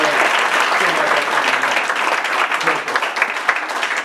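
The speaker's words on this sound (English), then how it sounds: "The audience will applaud for the interpreter." An audience at a live comedy magic show in New York claps for a volunteer interpreter, a full sustained round of applause that stays loud and even throughout, with a few faint voices mixed in.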